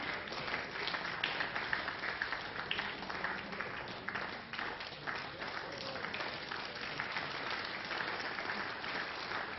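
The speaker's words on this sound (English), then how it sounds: "And applause drifting across from the other quarter-final, where Paul Broderick from Wellingborough" Applause drifting over from a neighbouring quarter-final at an indoor bowls singles championship, a sustained patter of many hands clapping at moderate distance, steady throughout with slight swells.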